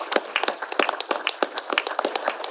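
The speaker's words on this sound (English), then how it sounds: "So please, another round of applause that Paul could join us today." Audience clapping at a panel discussion on Wisconsin farm country struggles, a brisk burst of many hands applauding steadily throughout, fairly close and without talk.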